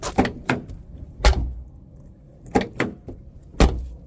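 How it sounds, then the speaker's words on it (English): A car door being worked on a vehicle under repair, several sharp close clunks and latch knocks spaced irregularly, with quiet gaps between them and no voices. "So that now means that I can open up this door"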